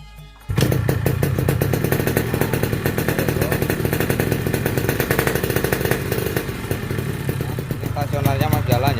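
A Yamaha RX King two-stroke motorcycle fitted with an RC100 CDI starts and then idles loud and close, giving a rapid, rattly, buzzing putter with a steady rhythm that holds for several seconds, and a voice speaks briefly near the end.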